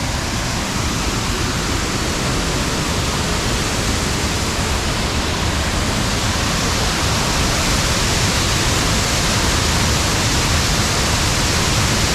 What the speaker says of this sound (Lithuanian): Va čia kur šitas krioklys.